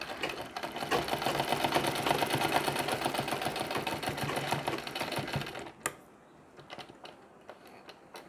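A sewing machine runs fast and steady while stitching a Nauvari saree, a dense rapid clatter that stops abruptly, followed by a few scattered clicks and handling sounds.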